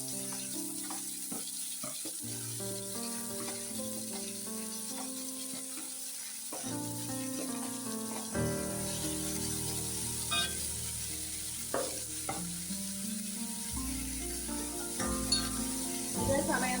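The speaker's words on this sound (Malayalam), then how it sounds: "നമുക്ക് സവാള, പച്ചമുളക്, ഇഞ്ചി, തക്കാളിക്ക ഇതെല്ലാം കൂടെ ഒന്നിച്ചിട്ടൊന്ന് വഴറ്റി" Onion, green chili, ginger and tomato sautéing together in a pan for egg bhurji, a soft sizzle with occasional stirring clinks heard beneath loud background music.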